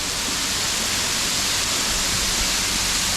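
Waterfall at Mount Coolum tumbling steadily, with wind buffeting it, heard as a loud, unbroken broadband rush of falling water close by, no voices present.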